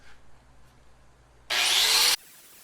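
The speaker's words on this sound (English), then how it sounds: "Now we're going to grind that off." After a quiet moment, a loud harsh grinding burst starts abruptly, holds steady for under a second, then cuts off: an angle grinder grinding down a weld on the body of a 1967 Ford F250 Camper Special.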